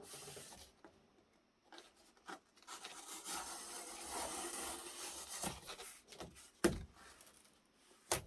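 Close, quiet scraping and sawing strokes of a blade cutting along a sealed cardboard shipping box, uneven rasping passes broken by a few sharp knocks and handling sounds.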